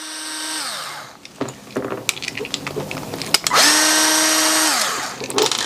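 Power tool, like an impact driver or drill, backing out bolts on a band-type 10 W metal heater for a pendant sprinkler head. Two sustained whirring runs with a pitch drop at each end, separated by clanks and rattles, loud and close.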